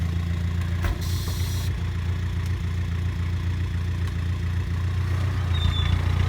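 Dump truck engine running steadily while the bed lifts, a constant loud low rumble with a brief higher whine partway through and no voices.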